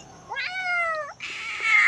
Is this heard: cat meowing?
yes